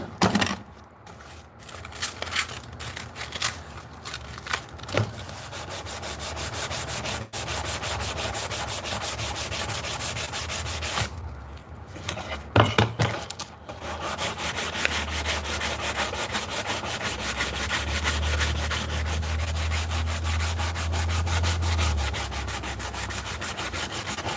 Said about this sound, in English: Smoothing out all the rough edges that I need.